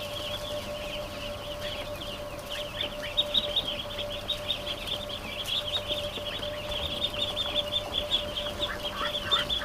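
Ducks call in a coop or pen, a run of short, rhythmic quacks and clucks that repeat steadily at moderate volume over a constant low background hum, with no talking.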